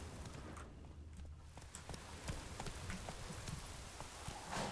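Hooves of Geralt's horse Roach clip-clopping at a steady walk in Witcher 3, a continuous patter of soft footfalls over a low background rumble, with no voices.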